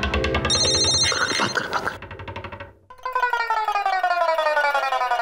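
A telephone rings loudly and repeatedly in an indoor TV-drama scene, with bright trilling electronic tones that give way to a rising, warbling ring pattern.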